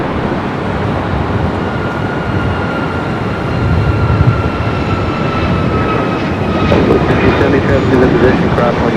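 A departing airliner bound for Paris roars down the runway at LAX, a sustained broadband jet rumble swelling slightly, with radio chatter over it.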